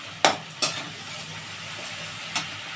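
Garlic paste fries in a pan of onion paste for malai egg korma, giving a steady, close sizzle broken by a few sharp utensil scrapes and clinks, with no talking.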